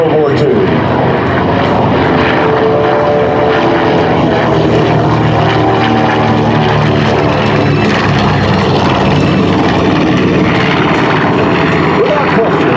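Propeller-driven World War II ground attack aircraft flying past at an air show, a loud continuous engine roar throughout with a commentator talking over it on a public address system.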